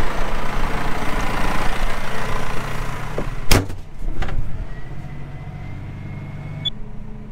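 A farm tractor engine rumbles at idle on a Dutch farm during a bulb harvest, with a sharp clunk partway through and a low, steady drone continuing more quietly afterward; no voices.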